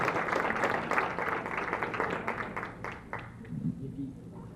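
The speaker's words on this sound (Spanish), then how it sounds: "vamos a darle un aplauso a los ponentes" Applause from an audience at a communication conference panel, fairly close and sustained, tapering off as a voice talks over the end.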